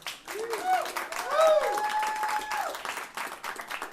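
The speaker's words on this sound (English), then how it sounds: "By applause, let's hear the married people." An audience at a comedy show claps steadily, with shouts and cheering voices rising above the applause.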